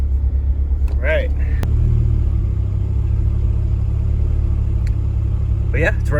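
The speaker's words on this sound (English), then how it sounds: "But yeah, it's running pretty smooth now," A car engine running on E85 idles after a cold-start fix, holding a steady low rumble throughout while a person talks over it.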